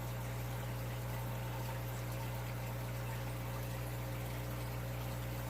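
Aquarium water return pump circulating water in a planted tank with CO2 injection, a steady low hum with faint continuous trickling, quiet and unbroken throughout, no voices.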